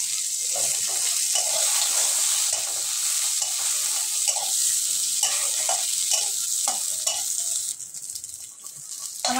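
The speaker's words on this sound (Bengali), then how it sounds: "আমার পটলের যে মুখগুলো ভেজে নিচ্ছি" Cut pointed gourd tops sizzle and fry in a pan, a steady bright hiss with intermittent stirring scrapes and clinks, heard alone at close range.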